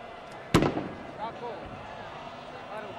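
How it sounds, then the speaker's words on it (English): A sharp firecracker blast goes off at a 1980 Cup Winners' Cup final between Valencia and Arsenal, set off by Spanish fans in the football stadium, a single loud bang over steady crowd noise and a commentator's voice. "Two firecrackers still exploding around us from the Spanish fans"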